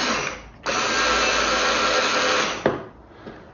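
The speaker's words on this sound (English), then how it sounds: "You don't really want a wobbly drill bit while you're drilling" A Vigrue power screwdriver with a slightly wobbly bit in the chuck drills into pine wood: a loud, steady motor whine runs for about two seconds, then cuts off sharply, with quieter tool noise before and after.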